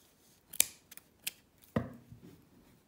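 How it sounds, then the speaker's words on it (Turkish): Scissors snip yarn on a crocheted amigurumi turtle keychain, a few quick, close, crisp cuts and one sharper final snip, with no talking. "Kalan kısmını da keseceğim."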